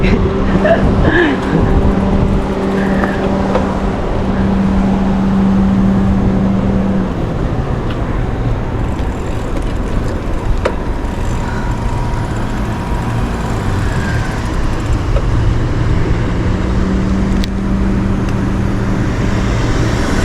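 Car passing close on a road in Japan, a loud steady roadway rumble with a low engine drone that swells and fades across about twenty seconds.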